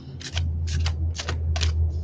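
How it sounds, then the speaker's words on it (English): Playing cards being shuffled by hand, four quick riffling bursts at an even pace close by, over a steady low hum in the room. "Was just shuffling the cards"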